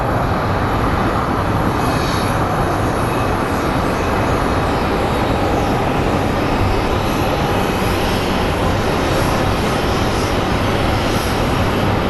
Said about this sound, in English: right now, as we zoom out, we are going to see a CRJ that is being pushed out by the ground crew